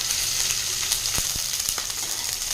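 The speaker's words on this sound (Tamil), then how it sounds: "வெங்காயம் பச்சை மிளகாய் வந்து நல்லா வதங்கட்டுங்க" Onion and green chillies sauté in oil for beetroot poriyal, a continuous close sizzle and crackle with a few sharp utensil taps against the pan, no talk.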